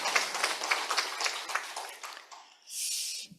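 A church congregation clapping during a Sunday worship service, a moderate burst of applause that fades after about two seconds and gives way to a brief hiss-like noise.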